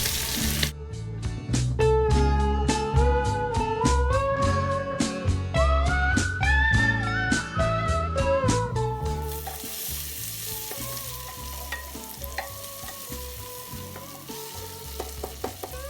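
Sliced onions hit smoking hot mustard oil in a pressure cooker and crackle in a loud, continuous sizzle. Background music plays over the first half, then the frying carries on more prominently.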